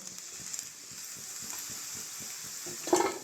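Potatoes fry in oil with a soft, steady sizzle and faint regular ticking, ending in a brief louder clatter near the end.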